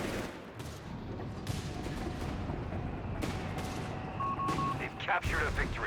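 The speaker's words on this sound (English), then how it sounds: "there you go, 3-inch gun bombarding here" A 3-inch gun bombards in a war video game, sharp booming shots scattered over a dense noisy battle backdrop, with talk running beneath the gunfire.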